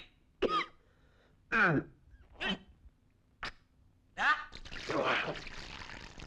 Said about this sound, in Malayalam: എല്ലാം കൊടുക്കുന്ന ചുമയാടാ